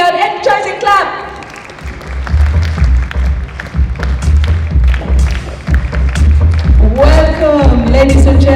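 An auditorium audience at the DDX Asia 2025 conference claps loudly to welcome speaker Dr. Kushal Sanghvi on stage, sustained applause with thumps beneath an amplified announcer's voice.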